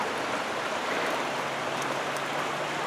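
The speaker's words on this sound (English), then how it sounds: "Well, right here, the river's starting to curve." Steady broadband rush of a creek flowing close by on a day hike near Soldier Creek and Lewis Falls, an even, continuous wash of water with no pauses or voices.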